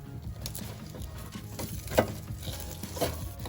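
Frozen chicken legs are shifted and turned in an air fryer basket, giving soft scraping and rustling with a couple of light clunks of the basket, quiet and close, no talk.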